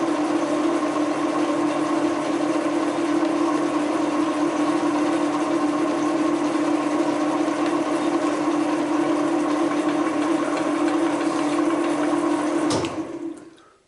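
A metal shaper running at 300 RPM cuts scrap steel with a loud, steady mechanical drone that holds evenly and then cuts off abruptly near the end.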